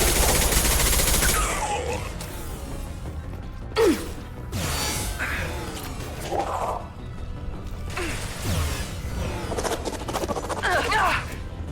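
Heavy gunfire in a Mass Effect 2 battle among empty colony buildings: rapid, sustained automatic shooting with metallic crashes and clanks, rising and falling across the stretch, with voices speaking over parts of it.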